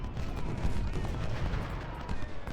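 Massed musket volleys and cannon fire from an American Civil War battle in the strategy game Ultimate General: Civil War, a dense, continuous rumble of overlapping gunshots with no clear gaps between reports.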